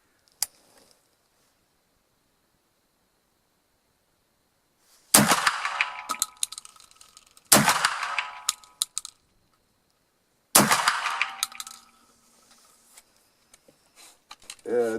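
Three 12 gauge Baschieri & Pellagri Thrill Shock slug cartridges are fired outdoors in a hunting field test. Each loud, sharp report is spaced a few seconds apart and trails off in a rattling echo, with quiet stretches before and between.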